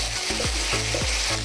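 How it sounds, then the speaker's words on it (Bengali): Ginger paste sautéing in oil, heard as a dense, close sizzle with regular scraping strokes of a spoon stirring about every third of a second, with no talking. "আদাটাকে দিয়ে ভালো করে তেলের সাথে মিশিয়ে দিন আর 2 মিনিট এটাকে কষাতে হবে।"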